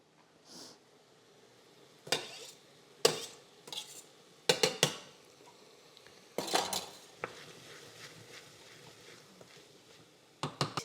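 A utensil scrapes and clanks against a metal pot in irregular bursts as garlic is added to a borscht soup, the knocks loud and close with quiet gaps between.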